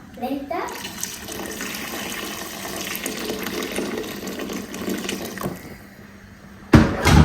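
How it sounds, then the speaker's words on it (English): Water pours steadily into a pot for several seconds, a rushing, splashing stream that fades out before a brief louder clatter at the end. "Add some water."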